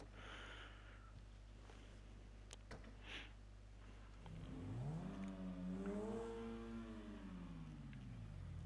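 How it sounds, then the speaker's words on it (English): A customized car engine in GTA 5 Online rumbles at idle, then revs up sharply, its pitch climbing and falling as the throttle is opened and released. "very awesome engine sound, which is actually the only reason why I decided to buy this car"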